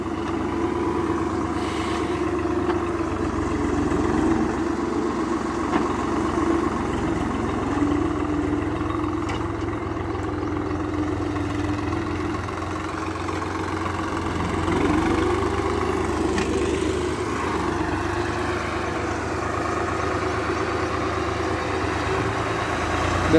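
A Swaraj 45 HP tractor with a tiller runs in second gear with both levers fully down. It gives a loud, steady engine drone that holds without a break for the whole stretch, with no talk.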